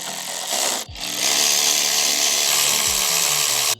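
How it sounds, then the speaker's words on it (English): A power tool loosening intercooler bolts on a 2025 Honda Civic Si, a loud continuous whir that briefly cuts out near one second and then runs on steadily with shifting pitch, close up, with no talking. "it is so handy to have a power tool"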